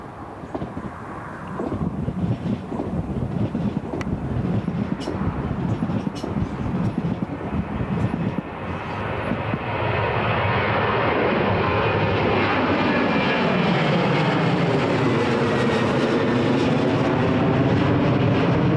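A Ryanair jet airliner departs Newcastle International Airport. Its engine roar builds from a rumble into a loud, sustained broadband rush with a slowly sweeping whine, heard from the ground, close and powerful.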